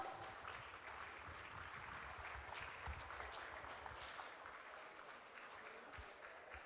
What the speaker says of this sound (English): Can we please have her on stage with a huge round of applause?